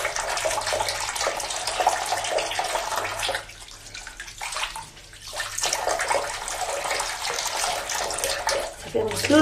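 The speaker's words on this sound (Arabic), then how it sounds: "دابا في جبهتي نغسل جبهتي." Water runs steadily from a bathroom tap as a face is splashed and washed, a continuous close hiss with brief dips where hands interrupt the flow.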